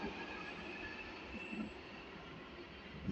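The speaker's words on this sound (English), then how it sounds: "The tube is now departing." A London Underground Jubilee Line tube train departs, heard as a low, faint rumble with a soft wheel hum that swells slightly near the end.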